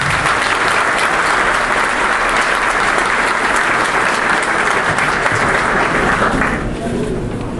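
An audience at a national meeting of traffic agents breaks into loud, sustained applause, a dense wash of clapping that fills the room and fades slightly near the end.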